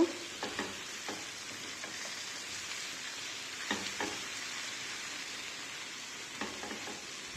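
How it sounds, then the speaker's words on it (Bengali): Spice masala is stirred into rohu fish pieces in a pan, with a low, soft sizzle and intermittent scraping strokes of a spoon. "এখন দিয়ে দিব মাছের সাথে মশলাকে ভালোভাবে মিক্স করব"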